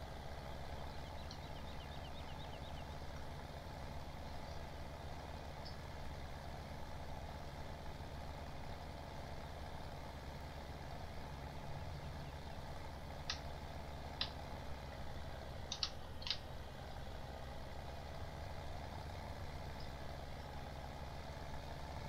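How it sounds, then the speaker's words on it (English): Tractor engine in Farming Simulator 17 running steadily under load, a heavy low droning rumble throughout with a few faint clicks near the end. "And this tractor just don't want to cut it sharp. Bogs down."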